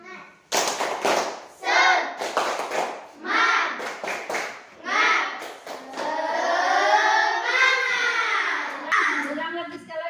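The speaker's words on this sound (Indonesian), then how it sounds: "Coba kita tepuk semangat dipimpin oleh Mahara" Elementary school children in a classroom perform the rhythmic 'tepuk semangat' clapping chant, with bursts of sharp, close claps interleaved with loud chanting voices.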